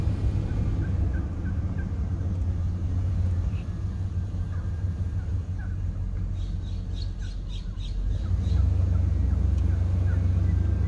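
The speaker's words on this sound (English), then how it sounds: "but first we'll check out the turkeys" Turkeys gobbling outdoors in a neighborhood, with repeated squawking gobble bursts at mid distance over a steady low rumble of background traffic or wind.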